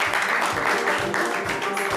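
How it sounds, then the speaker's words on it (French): Brief, dense applause from a live audience at a stage show, a continuous wash of clapping at fairly close range with no break over two seconds. "On va l'applaudir"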